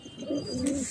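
Racing pigeons cooing after landing at a loft, a soft close coo lasting under a second over faint background hiss, with no talking.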